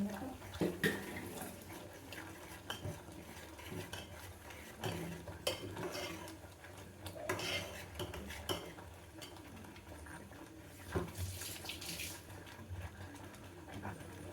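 Cashew upma is stirred nonstop in a pan: a spoon scrapes and clinks against the metal in irregular bursts, fairly close but quiet, with faint background noise.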